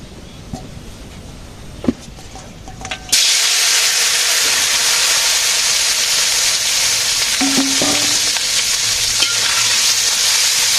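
Fish frying in a hot wok in a village kitchen: after a few quiet knocks, a loud, steady broadband sizzle bursts in and holds close and continuous to the end, with faint clinks over it.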